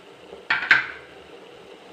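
A hot cooking pot of rice flour chowmein is lifted off a stove, giving two sharp metallic clanks close together, each followed by a short ringing decay, then quiet.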